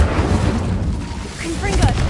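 Incendio fire spell cast in Hogwarts Legacy on PS4, producing a loud, dense roaring burst of flame with crackling, whooshing texture and brief higher magical sparkles, sustained throughout.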